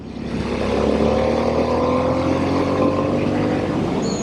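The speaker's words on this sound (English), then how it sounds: "This thing picks up like mad. This thing is amazing. This is a true performance bike." A Harley-Davidson Sportster S motorcycle accelerates in a loud, sustained engine roar whose pitch climbs steadily, heard close and continuous with wind noise and no talking.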